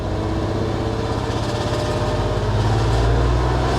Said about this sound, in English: There's definitely a misfire, I think. It's intermittent. Like around 1500 RPM,